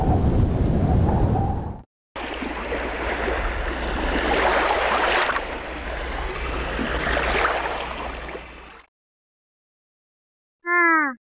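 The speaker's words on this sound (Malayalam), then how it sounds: "എന്തൊരു കാറ്റ്!" A strong wind and rainstorm in a cartoon roars loud and steady for several seconds after a brief opening burst, then cuts out, followed by a short bright chime.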